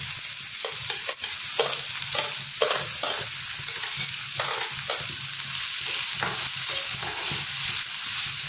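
Onion fries in hot oil in a pan, a loud continuous sizzle broken by repeated scraping stirs at a quick, uneven pace, close up with no voices.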